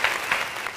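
A short burst of applause, many hands clapping together in a steady wash of sound.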